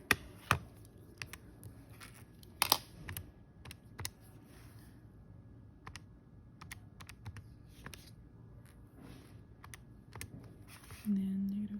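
Soft, scattered key taps on a calculator come through clearly as numbers are entered, quiet and close, with low background hiss and a brief hum near the end.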